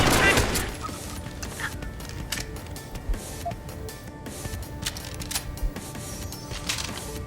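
Gunfire in Deus Ex: Human Revolution, with a loud burst at the start followed by scattered sharp shots and clicks at moderate volume under faint game ambience.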